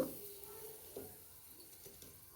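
Garam masala fries in hot oil in a wok with a little turmeric, giving a quiet, steady sizzle broken by a few soft stirring scrapes.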